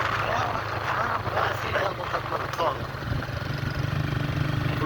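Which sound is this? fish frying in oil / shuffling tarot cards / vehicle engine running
vehicle engine running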